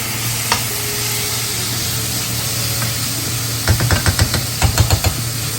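Honey poured into a hot pan with paneer on a high-flame induction cooktop, giving a steady low sizzle with sharper crackling bursts near the end, close and alone.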